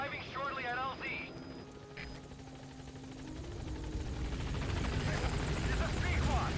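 Pequod, the transport helicopter in Metal Gear Solid V: The Phantom Pain, approaching the landing zone, a steady rotor and engine roar that swells louder over several seconds, with a game voice and brief electronic tones early on.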